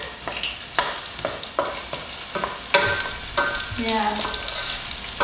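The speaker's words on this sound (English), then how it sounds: "because I want to hear that sound, the frying sound." Onions fry with white pepper in hot oil for a tomato chicken stew, a loud, close, continuous sizzle broken by repeated sharp scrapes and knocks of stirring, with a brief spoken interjection.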